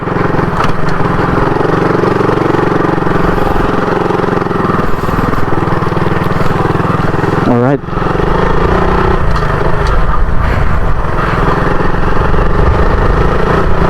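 A motorcycle engine runs on a road near Lipa and Padre Garcia, Batangas, a steady loud drone throughout with a brief dip and rising whine partway, while people talk over it.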